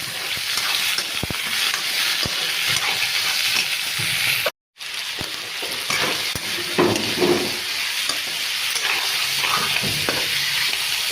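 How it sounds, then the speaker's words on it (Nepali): Chicken pieces fry in a pan with onions already browned red, giving a steady crackling sizzle broken by stirring scrapes and one brief dropout, with no voices. "चिकनलाई पनि हालेर मजाले भुट्नुपर्छ"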